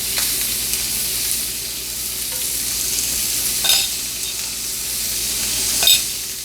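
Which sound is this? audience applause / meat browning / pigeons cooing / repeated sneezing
meat browning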